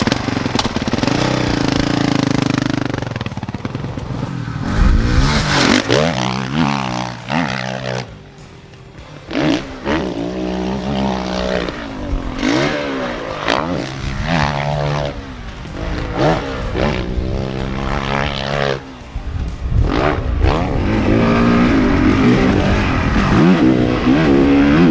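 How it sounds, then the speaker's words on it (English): New Honda dirt bikes, including a 450, rev and ride nearby, with engines rising and falling in pitch through repeated throttle bursts and gear changes, loud and continuous throughout. "Dirt bikes."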